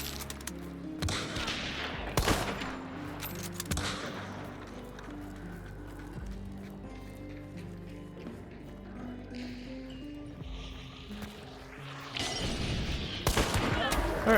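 Mosin rifle shots ring out in the video game Hunt: Showdown, with a few sharp, loud cracks spaced apart and a cluster near the end, between quieter game sounds and someone talking.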